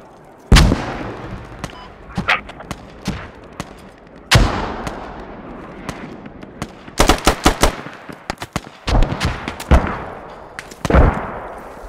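Mortar rounds firing in the video game Squad: a series of heavy booming shots, some spaced out and some in quick clusters, each hitting sharply and then decaying, with no voices.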